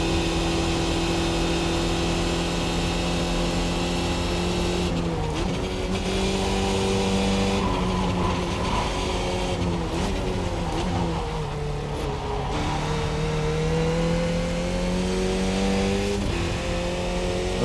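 A simulated F2000 open-wheel race car engine at Pocono South holds a loud, steady drone, with its pitch climbing through the gears and several sharp drops at the gear changes.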